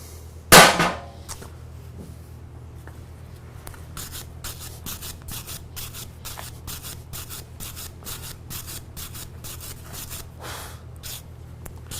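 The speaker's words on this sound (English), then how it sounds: "let's take off the clamp here" A clamp comes off a piece of metalwork in a welding workshop, marked by one sharp, loud metallic snap near the start, followed by a long series of quieter scraping and rubbing strokes at a steady, uneven rhythm.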